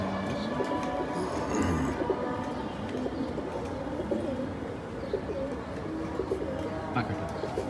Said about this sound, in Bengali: এই যে খাকি কবুতর, হ্যাঁ এই যে খাকি কবুতর।